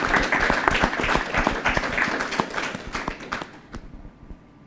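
Dense applause from a studio audience at a live talk show, many hands clapping loudly, then thinning and fading out toward the end.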